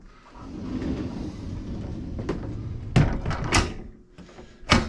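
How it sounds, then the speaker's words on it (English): Privacy sliding doors in the bathroom of a 2019 Thor ACE 32.1 motorhome rumble along their track, then bang shut with several sharp close clacks near the end. "Privacy sliding doors."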